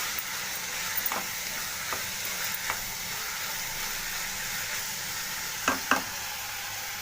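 Ivy gourd curry with chili powder is stirred in a frying pan, a steady soft sizzle with a few scraping strokes of the spoon, the loudest two near the end, close and without talk.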